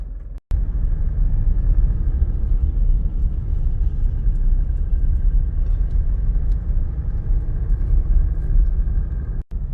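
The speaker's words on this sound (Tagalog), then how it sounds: "mag-drive na kami pa uwi" A car carries its occupants home late in the morning after a reflexology visit, heard from inside the cabin as a steady, loud low road rumble and engine drone that runs unbroken with no talk.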